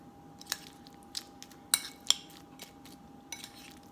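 A spoon scrapes and clinks against a bowl while food with green onions is mixed, giving a few sharp taps between quieter soft squishing stirs, close and faint.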